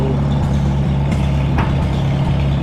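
A small gas engine, started without using the choke, runs at a steady idle with a constant low hum and buzz, loud and close, then cuts off abruptly at the end.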